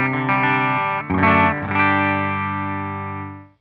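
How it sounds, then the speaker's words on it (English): An electric guitar played through a Line 6 Helix into an amp strikes a few chords with distortion and chorus, then lets the last chord ring out and fade over a few seconds, loud and up close with no talking. "I should hear my guitar."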